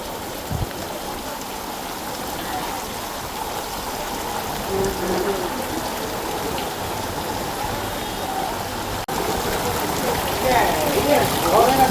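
Steady rain in Jaffna falls and patters on surfaces, a continuous hiss with scattered drips, while a voice speaks faintly in Tamil in the background.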